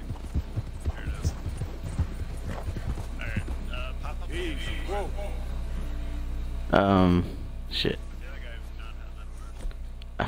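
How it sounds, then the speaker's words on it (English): A horse in the Red Dead 2 video game trots with rhythmic hoof clops over a low throbbing hum, while players talk over it, with a louder burst near the middle. "I love this horse"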